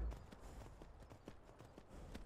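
Horse hooves clip-clop in a steady, even trot in the video game Skyrim, quiet and fairly close, with soft ambient game sound underneath and no speech.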